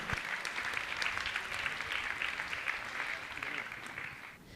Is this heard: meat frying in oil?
no